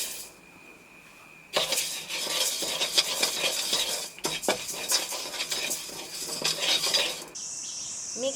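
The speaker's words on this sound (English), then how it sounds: "I'm immediately roasting it in the thick base pan" Rice being stirred and dry-roasted in a thick-bottomed pan for tsampa, a continuous dense rattle and scrape of grains under a spatula, close and loud, starting after a quiet moment and running several seconds.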